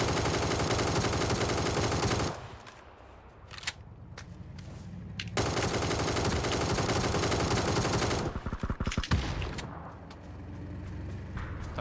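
Sustained automatic gunfire aimed at a tank in the battle royale game PUBG on the Sanhok map, dense and loud, dropping off briefly and then resuming with scattered sharper bursts.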